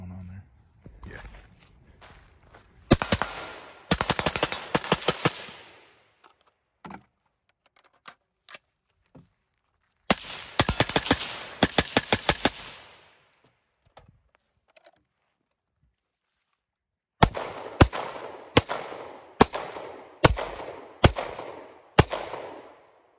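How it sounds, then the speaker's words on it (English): A SIG MPX and a Daniel Defense DDM4 rifle fire outdoors in three strings of rapid, sharp, loud shots, separated by quiet pauses and a few scattered single clicks and thumps. "what we're shooting is SIG MPX with a EOTech, Daniel Defense DDM4 with a AMG UH1 red dot and a Juliet magnifier."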